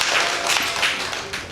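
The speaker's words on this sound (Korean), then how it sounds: "박수 주세요." An audience at an iftar event hosted by an Islamic center in Korea breaks into applause, a dense, steady wash of clapping from many hands that fades slightly over a brief moment.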